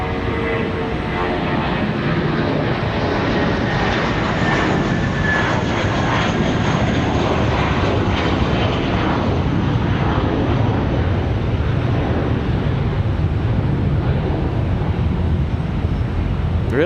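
Airbus A319 jet departing Raleigh Durham for Houston on a windy day, a loud, sustained engine roar with wind noise, steady throughout the clip.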